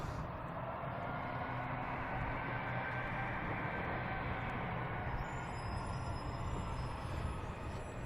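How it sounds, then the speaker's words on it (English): A JetBlue airliner arriving from Minneapolis at Boston Logan passes by as a steady, broad jet roar with no talk, holding loud and even throughout. "There's a JetBlue coming in from Minneapolis. It just seemed to race right by me."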